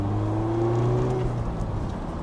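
A Mazda MX-5 ND engine rev-matching on a downshift on Black Forest mountain roads, with a steady in-cabin engine drone that holds a tone and then drops away smoothly, no talk.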